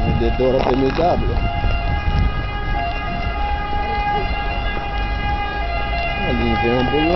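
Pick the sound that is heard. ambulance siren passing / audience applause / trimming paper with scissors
ambulance siren passing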